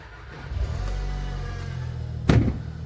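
A 400 bhp Audi S3 8V with a custom valved exhaust idles after starting, giving a steady, deep, close-up engine rumble that swells slightly, then a brief sharp burst of sound near the end.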